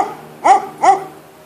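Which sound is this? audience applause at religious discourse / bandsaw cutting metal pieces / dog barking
dog barking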